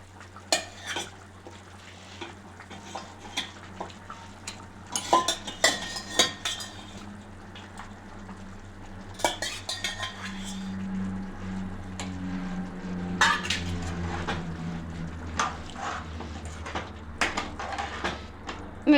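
A spoon or ladle stirs korameenu fish curry in a metal pot, with intermittent clinks and scrapes against the pot over a soft simmering bed, close up and without talk.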